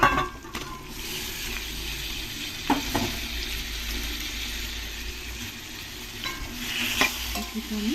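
Marinated chicken tossed into softened tomatoes in a curry pan, frying with a steady sizzle while a spoon stirs and scrapes through it in irregular strokes, close and moderately loud.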